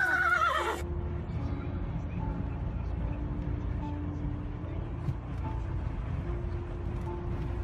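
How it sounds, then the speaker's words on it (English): Horses neigh and whinny during a wildfire evacuation at a Los Angeles-area ranch, with a loud shrill call at the start and then a steady roar of fire, wind and activity carrying on underneath. "We're seeing these poor horses that need to get out of here."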